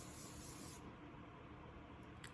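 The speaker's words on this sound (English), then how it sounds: "This Morphe setting mist, and just spray it on my face." A Morphe setting mist bottle sprays onto a face in one close, soft hissing burst lasting under a second, followed by quiet room tone and a faint click.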